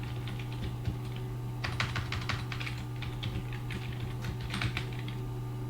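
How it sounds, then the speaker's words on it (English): Typing on a computer keyboard, a steady run of quick close key clicks with brief pauses, over a constant low hum and with no talking. "So we type the names of our exe file in order to have access to our results"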